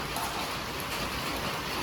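Steady, dense rain falls on a jungle campsite, a loud and unbroken close hiss with no pauses.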